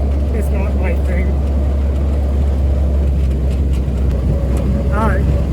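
A Jeep rolls along rough back roads in New England, a loud, rumbling engine drone close up with rattles and bumps, while a voice talks over it.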